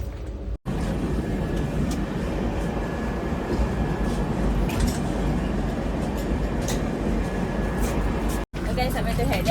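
Steady low rumble of a train rolling on the rail line toward Rishikesh station as it slows on arrival, a continuous close drone inside the coach with people talking over it.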